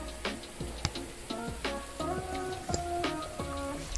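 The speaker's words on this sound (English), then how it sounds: "When it's like raining and like slightly overcast." Rain sound effects in a fishing video game, a steady patter of drops with ticking taps scattered through it, playing at low level with no speech.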